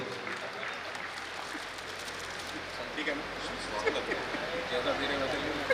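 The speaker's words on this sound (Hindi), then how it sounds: "आप लोग एक बार जोरदार सी तालियां दे दें" Audience applause at a music concert in a cultural hall in Amravati, a steady broad wash of clapping throughout that swells slightly toward the end, with a few voices mixed in.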